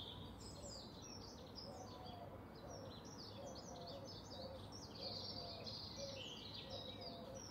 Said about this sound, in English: I came up with this idea of wanting to isolate the song of that blackbird